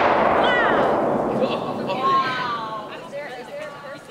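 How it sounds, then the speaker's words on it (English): A fragmentation grenade goes off outdoors with a loud blast whose rumbling echo slowly fades over several seconds, while people shout and talk over the decay. "That sounded like a fragmentation grenade."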